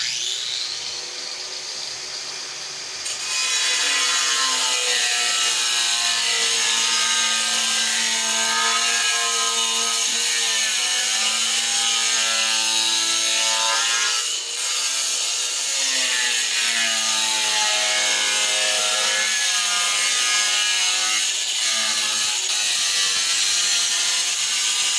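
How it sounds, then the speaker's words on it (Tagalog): A power cutter slices through ceramic tile along a straight guide, a loud, steady grinding whine that starts after about three seconds and runs almost unbroken to the end, with slight dips in pitch as the blade bites. "Pang-tuwid sa linya ng ating"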